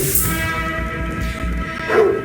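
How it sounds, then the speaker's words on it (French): A dog barks as a school bell, a few close yapping barks repeating in a loose rhythm over a steady background hum, loud and alone with no talking. "C'est un chien, ça."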